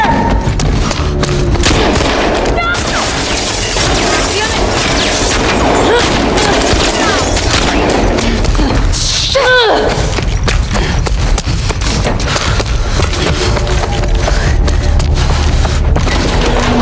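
Gunfire in the video game The Last of Us Part II, with dense bursts of shots, booms and thuds over a loud action soundtrack, and voices shouting at times.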